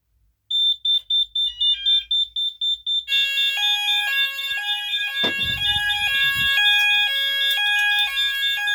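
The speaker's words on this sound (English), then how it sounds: "I'm going to be able to demonstrate soft start on the sounder base" A fire alarm sounder base on a newly installed alarm system sounds its soft start: a loud, steady electronic pulsing tone that soon shifts into a continuous, stepped, warbling alarm pattern that carries on to the end.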